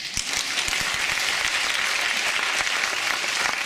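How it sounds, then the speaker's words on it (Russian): A concert audience claps steadily as a performer comes on stage at a solo singer's concert. The applause is dense and even, with a few sharp close claps early on and no talking. "Юлечка, это я просто говорю, чтобы ты красиво вышла под аплодисменты."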